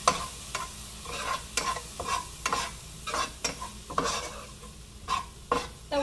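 Onion fries in a pan, a steady low sizzle punctuated by regular scraping stirs of a spatula against the metal, close and fairly clear.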